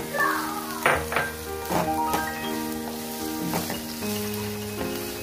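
Cabbage and capsicum stir-fried for veg hakka noodles sizzle steadily in a hot pan, broken by several sharp clanks and scrapes of a utensil stirring against the metal.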